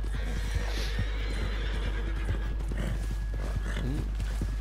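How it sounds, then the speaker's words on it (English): Wild horses in Red Dead Redemption 2 whinny and neigh while hooves clop irregularly, set against steady outdoor ambience with no talking. "Little wild horses."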